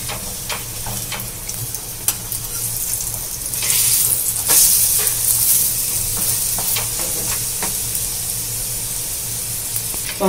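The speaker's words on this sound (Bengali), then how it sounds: "পরোটাটা উল্টে দিচ্ছি। দেখুন কত সুন্দর ভাজাটা হয়েছে।" Eggplant (brinjal) paratha frying in an oiled pan gives a steady, close sizzle and hiss throughout, with occasional light clicks and a brief louder surge of spitting oil partway through.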